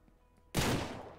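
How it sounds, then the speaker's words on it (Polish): A single sharp gunshot bursts out abruptly in the Ranch Simulator video game, loud and close, decaying over a fraction of a second after a quiet lead-in. "Zobaczymy, czy się boją strzałów."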